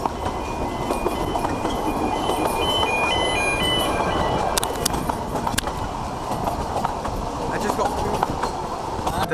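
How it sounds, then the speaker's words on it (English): A steam locomotive rumbles steadily nearby with a continuous mechanical churn and brief high tones early on, while people talk over it throughout. "does this steam locomotive burn slate?"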